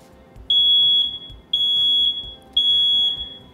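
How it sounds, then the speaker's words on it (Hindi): A smoke alarm sounds its test after the button is pressed: three loud, piercing electronic beeps, each lasting about a second, repeating at an even pace over a faint room hum. "ये है हमारा स्मोक अलार्म।"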